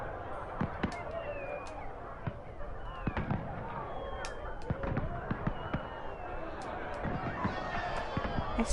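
Fireworks popping and crackling in Dragon Age Inquisition: Trespasser, a dense run of sharp bangs and whistles over busy game ambience.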